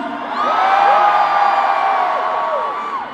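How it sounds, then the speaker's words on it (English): A concert crowd at a live show in Toronto cheering and whooping loudly for about three seconds, a mass of high shouts swelling and holding with no single voice standing out. "How many of you guys believe in true love? I want to hear you guys cheer."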